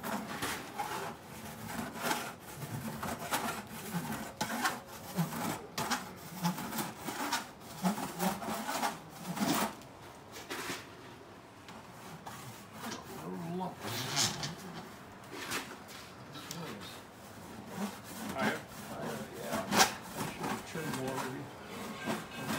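A metal side kick panel on a La Bestioni Beast of Turin car is hand filed, with repeated rasping strokes close by, rhythmic and continuous, while someone talks over it.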